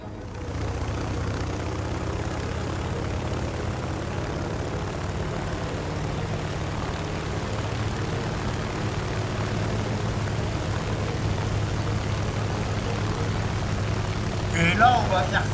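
Propeller engine of a Henschel HS-129 ground-attack plane in War Thunder, a steady droning hum that holds level throughout with faint background sounds near the end.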